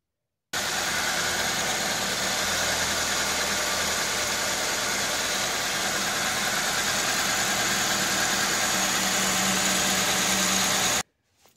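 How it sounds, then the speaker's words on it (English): A car engine, started after a new belt was fitted, idles steadily in a garage with a continuous broadband drone and a slight knocking vibration, close and loud for about ten seconds, then cuts off abruptly. "So I'm gonna open the garage, start the car,"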